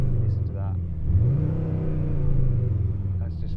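A Škoda Kodiaq vRS in sport mode plays artificial engine sound through a cabin speaker: a low, droning rumble swells smoothly as throttle is applied and holds steady. It is heard from inside the car, moderately loud, with brief voice sounds at the edges.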